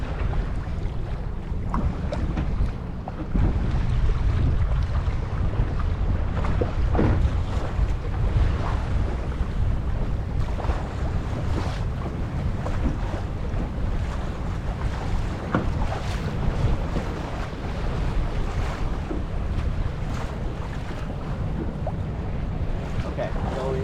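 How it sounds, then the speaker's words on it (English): Steady wind rushing over a sailboat in Portland Harbor, Maine, during a fall sailing lesson, with loud continuous buffeting, flapping sails and water wash throughout. "okay, go into the wind. Into the wind. Let the sails flap directly."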